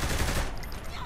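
A short, dense burst of automatic gunfire in the open-world game Saints Row 3, loud and continuous for about a second, thinning out toward the end.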